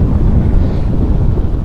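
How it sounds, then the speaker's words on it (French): Outdoor wind buffets the microphone in loud, low, rumbling gusts that fill the whole moment with a constant blustery roar, with no speech. "oh là, le vent"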